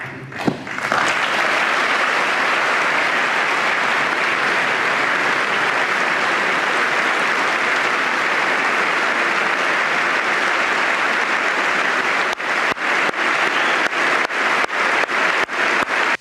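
Loud, sustained applause from a large audience during a Trump speech, a dense unbroken roar of clapping that runs for many seconds, with a few sharp bursts near the start and end.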